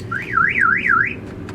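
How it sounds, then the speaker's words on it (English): A car alarm wails in a rising and falling siren pattern, several quick sweeps, loud and close, then cuts off. "Tell me this car does not have an alarm on it."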